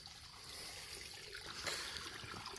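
Water trickles and babbles softly in a steady, hissing stream, quiet and continuous with no voices.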